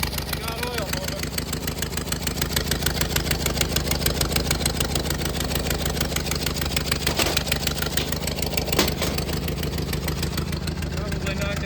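Engine of a 105-year-old pickup truck idling on frozen Lake Superior, a steady rhythmic chugging with fast regular pulses, close and continuous from start to finish.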